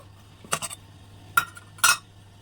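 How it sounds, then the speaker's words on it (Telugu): A metal spoon clinks against a bowl three times while millet malt flour is scooped in, sharp bright taps spaced apart over a quiet kitchen background. "దీన్ని 4 స్పూన్లు పిండి వేరే గిన్నెలో వేస్తాను"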